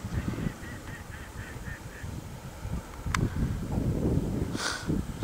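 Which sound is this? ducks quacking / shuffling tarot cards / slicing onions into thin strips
ducks quacking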